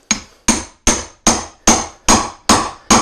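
An axe strikes willow wood to split it, giving eight sharp, evenly spaced blows that are loud and close, each ringing briefly before the next.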